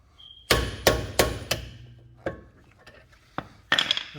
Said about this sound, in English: I'm going to be hitting on it too, so with the hammer.